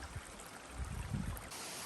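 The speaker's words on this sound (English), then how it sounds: "It's running down here. Little waterfalls." Water running down small waterfalls at the Cascades in Litchfield National Park, a close, steady rushing flow with a brief louder splash swell midway and no voices.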